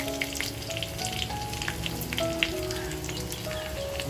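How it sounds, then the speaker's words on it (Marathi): Garlic and dried red chillies sizzle and crackle steadily in hot oil for a tadka, a dense close frying hiss with scattered pops throughout. "तेल छान तापल्यानंतर लसूण टाकायचे, लाल मिरच्या"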